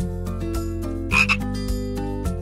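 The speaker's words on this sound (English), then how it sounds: "I see a frog singing." A frog croaks in a steady, close, repeated rhythm of short calls, with one brighter, louder burst in the middle and no voices.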